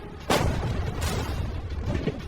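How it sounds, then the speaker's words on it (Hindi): Gunshots fired at a container in a loud burst of outdoor shooting: two sharp blasts about 0.7 s apart, then softer rumbling reports toward the end, all at close range with no talking. "पहले बाकी शॉट्स फायर कर लेते हैं"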